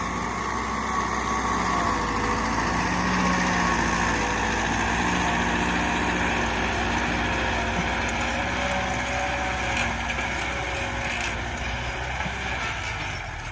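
A Kubota MU5502 tractor pulling a cultivator runs with a steady, loud diesel drone, holding an even pitch throughout without pause, with no talk.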